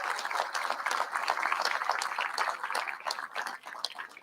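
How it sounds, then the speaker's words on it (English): A crowd at an election-night event applauds steadily, dense clapping that holds at a fairly even level throughout with no voices standing out. "Give yourselves a round of applause."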